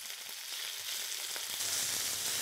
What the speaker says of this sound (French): Pour saisir la viande, il nous faut un wok très très chaud dans lequel je mets un filet d'huile d'olive.